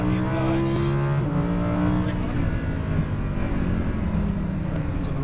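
A Lamborghini Huracan LP610-4 accelerates at full throttle on a racing track, its engine note rising and shifting in a loud, sustained roar, with a voice faintly present over it.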